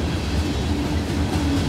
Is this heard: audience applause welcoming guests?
no